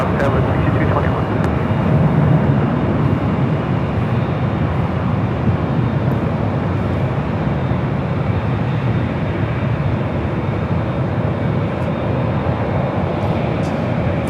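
Jet airliner rolling for takeoff on runway 24 left at Los Angeles International Airport, a loud, continuous engine roar holding steady throughout, with a radio voice faintly over it.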